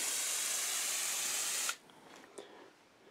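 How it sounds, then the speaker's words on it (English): Fluid Film spray hissing steadily onto the tunnel of a first-year Yamaha Bravo snowmobile, a loud continuous blast that stops abruptly, followed by faint small clicks and handling noises. "we're just gonna hit it with some fluid film and call it a day"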